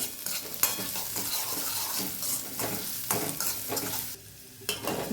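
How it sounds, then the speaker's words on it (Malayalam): Chopped carrots sautéed in ghee for a sago and carrot payasam give a steady, close sizzle with stirring scrapes throughout, briefly quieting near the end before resuming, with no voices. "ഇനി ആ ഗീയിലേക്ക് തന്നെ നമ്മൾ അരിഞ്ഞു വെച്ചിരുന്ന ക്യാരറ്റ് ഇട്ട് കൊടുക്കുകയാണ്. ഒന്ന് ചെറുതായിട്ടൊന്ന് വഴറ്റി കൊടുക്കാം."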